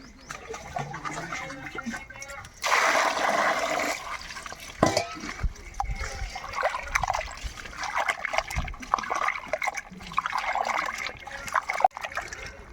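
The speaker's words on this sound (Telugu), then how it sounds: "ఇప్పుడు ఒకసారి నీళ్ళు పోసి కడిగేద్దాం అండి" Running water splashes and trickles with sloshing and scrubbing noises as fish is washed, bursts of water coming and going over several seconds.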